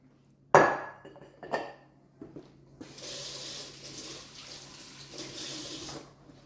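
A kitchen tap runs steadily for a few seconds while hands are wetted during pizza dough handling with a spiral mixer, preceded by a couple of sharp knocks and clatters.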